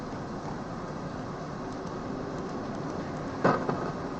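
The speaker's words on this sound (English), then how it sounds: "the rain that's out there. It's pretty bad." Heavy rain falls outside as a steady, dense hiss that holds at an even level throughout, with a short sharper burst near the end and no talking.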